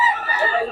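A chicken at a poultry sale gives a brief, close cluck lasting under a second.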